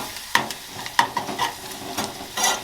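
Chilli flakes stirred through a hot pan for garlic bread, a handful of quick, clear spoon scrapes and clinks over a soft sizzle, close up and brief.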